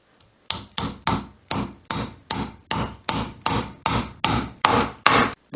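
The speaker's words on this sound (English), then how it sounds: "I install furniture glides on the bottoms of the desk feet." Furniture glides being hammered into the bottoms of wooden desk feet: about a dozen evenly spaced, sharp knocks, each ringing briefly, close and loud with no talking.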